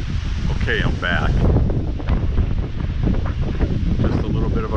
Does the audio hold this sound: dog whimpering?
no